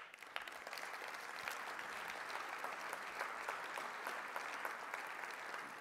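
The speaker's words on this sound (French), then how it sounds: "je vous demande d'applaudir les animateurs des villages." Audience at a political party congress applauding, a sustained, even roll of many hands clapping heard from a distance and quite faint, continuing steadily throughout with no speech.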